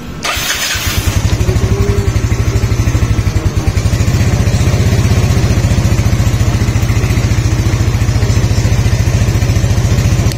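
A Raider R150 motorcycle, fitted with a fullwave setup, cranks briefly, fires up and settles into a loud, steady, close idle with a rapid even pulse throughout, no voices.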